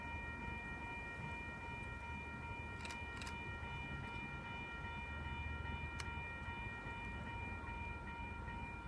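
A train approaching along the tracks, a steady rumbling drone with sustained tonal whine and a couple of brief higher bursts, continuous and fairly close throughout.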